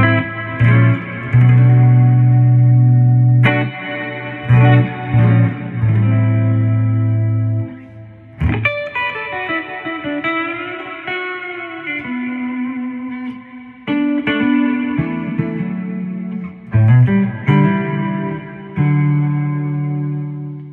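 Full, warm chords and runs on a Peavey T-60 electric guitar with a deep low end and light effects, played alone in a jazzy style with brief pauses between phrases.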